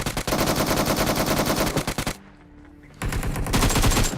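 Rapid automatic gunfire in PUBG, a long close burst of evenly spaced shots, then a brief pause and a second loud burst.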